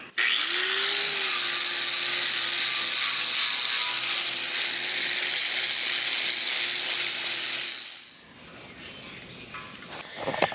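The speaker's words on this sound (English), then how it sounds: "I'm just going to rough this up with a wire brush on a grinder real quick" An angle grinder fitted with a wire brush scours rust off a steel LP tank, giving a loud, steady high whine for about eight seconds before it spins down and leaves quiet handling noise.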